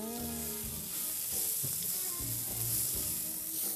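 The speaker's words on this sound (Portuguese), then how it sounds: "Eu pego essa folha de taioba, bem rústica mesmo," Taioba leaves sizzle steadily in a hot pan as they are sautéed, a continuous close frying hiss with a few soft stirring knocks and no voices.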